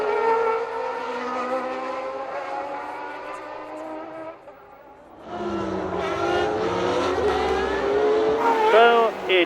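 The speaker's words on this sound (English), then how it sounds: "So it is a V10 Honda-powered car leading the V12 Ferrari, then the V10 Williams of Patrese" Formula 1 cars race at the 1990 San Marino Grand Prix, with V10 Honda and V12 Ferrari engines howling in sustained, high-pitched wails. A commentator talks over the engines, which drop briefly and then return loud as the cars pass and accelerate.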